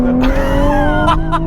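A Nissan GTR Recaro Edition accelerates hard, its engine note rising steadily close by, with brief tyre noise and a voice speaking over it.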